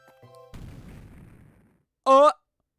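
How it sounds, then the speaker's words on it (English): A short explosion rumble in the Pokémon Ranger: Shadows of Almia video game, a muffled burst that fades over about a second, followed by a loud synthetic game tone. "What was that? An explosion? That noise came from the basement."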